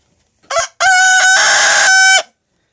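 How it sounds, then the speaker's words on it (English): A rooster crows twice close by, a short opening burst followed by one long, loud, sustained crow with a clear harmonic tone, alone with no talking. "You gonna crow again?"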